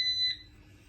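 A Panda 3200rpm auto spin dryer gives a single sharp, high electronic beep that quickly fades. It is near and clear, with no talking.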